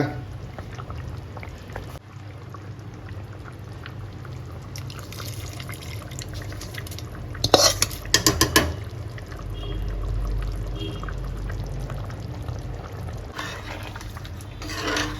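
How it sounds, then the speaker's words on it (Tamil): Hot tempering poured into a mutton breastbone and brinjal curry gives a short burst of sizzling splashes near the middle, over a steady low kitchen hum. "இப்போ அந்த தாளிப்பை இதில் சேர்த்துக்கலாங்க"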